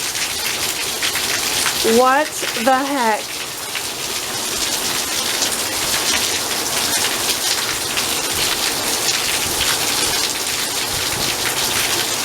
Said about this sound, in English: It's been raining for no joke like 3 minutes.